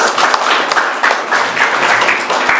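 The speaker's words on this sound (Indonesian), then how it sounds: "Tepuk tangan untuk Tuhan Yesus." A congregation at a Sunday church service applauding, dense continuous clapping that holds at a steady loud level throughout.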